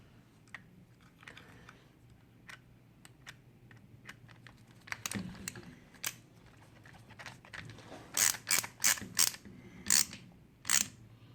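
A small screw is driven into the gear cover of a Redcat R/C car. Faint clicks and ticks come first, then a run of sharp, close ratcheting snaps from the hand tool.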